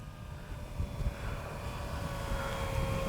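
An FMS 1800mm Ranger RC plane comes in to land on a runway, its electric motor a thin, steady whine over windy outdoor rumble, growing slightly louder as it approaches.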